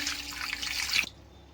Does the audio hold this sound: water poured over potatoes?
yes